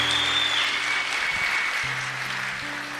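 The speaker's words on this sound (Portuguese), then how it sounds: "E aí eu me pergunto, você está aplaudindo por quê?" Audience applause in a hall after a Catholic sermon, a continuous crowd clapping over a low sustained tone, fairly loud and steady throughout.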